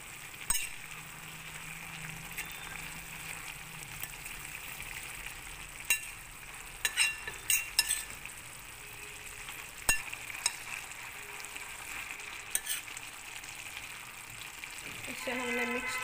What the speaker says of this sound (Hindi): अब इसे हम मिक्स कर लेते हैं।